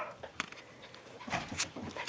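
A small Australian Shepherd puppy makes soft whimpers and a few faint yips close by, quiet and broken up over a couple of seconds.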